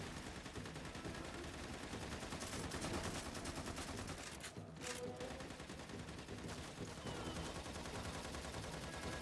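Dense gunfire and automatic weapon bursts from the video game Lost Planet 2 run continuously at steady loudness, packed with overlapping shots and explosions throughout.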